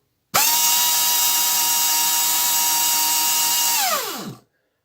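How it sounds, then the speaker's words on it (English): Small electric motor switched on by a Perun V2 trigger unit during a diagnostic test: a loud, steady high-pitched whine for about four seconds that winds down and cuts off cleanly, with no talking. "Perun will either power the motor as long as you won't put the cardboard back"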